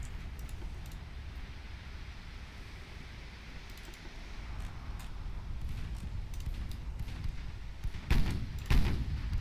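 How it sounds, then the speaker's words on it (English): 16-inch naval guns firing in the naval warfare game Ultimate Admiral Dreadnoughts: a low rumbling battle ambience builds, then two heavy booms land close together near the end. "Just getting pummeled by the 16-inch guns though."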